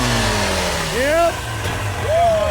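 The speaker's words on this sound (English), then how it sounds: "The next bike has got a little bit of a rattle to it." A dirt bike with a slight rattle revs at a hillclimb event, its engine rising in pitch in two loud surges over a steady low rumble, with a crowd and commentator talking around it.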